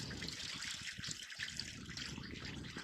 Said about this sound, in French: Donc là je vais mettre de l'eau.